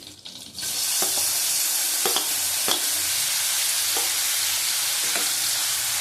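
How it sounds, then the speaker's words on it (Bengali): Chopped onions fry in oil with whole cardamom, cloves and cinnamon for a prawn and milk dish, a steady close sizzle with scattered spoon scrapes and taps, no voices. "ভালো করে ভেজে নেবো।"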